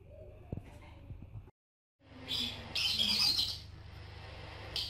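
Budgerigars chirp and chatter in a busy high flock for several seconds, after a quieter stretch with a few soft knocks and a brief silence.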